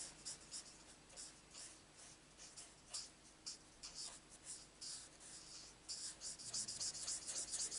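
Pen colouring in stamped paper butterflies, a faint scratchy rubbing of the tip on paper in short repeated strokes, quiet and close, growing slightly busier toward the end.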